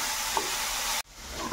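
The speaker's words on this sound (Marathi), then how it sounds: "आपल्या पूर्ण भाज्या आपण आता 1 मिनिटभर छान अशा परतून घेणार आहोत। मोठ्या फ्लेमवरच" Mixed vegetables with paneer and tomato stir-frying on a high gas flame, a dense hiss of sizzling that cuts off abruptly partway, then resumes more softly.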